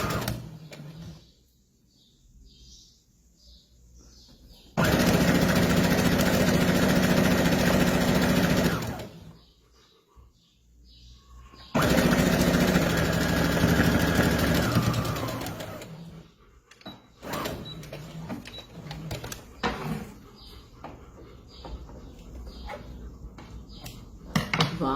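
A sewing machine runs a straight stitch along fabric edge under the presser foot, in two loud sustained bursts of steady whirring, separated by quieter pauses with handling clicks and rustles.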